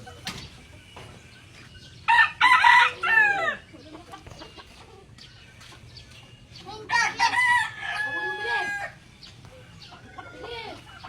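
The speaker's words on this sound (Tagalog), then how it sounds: "Daming manok." A backyard flock of many chickens, with roosters giving two loud, close crowing bursts separated by quieter clucking and low background rumble.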